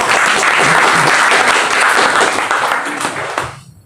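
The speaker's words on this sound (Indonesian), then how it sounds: "kau beri tepuk tangan sedikit" A church congregation breaks into loud, dense applause that holds steady for several seconds, then tapers off quickly.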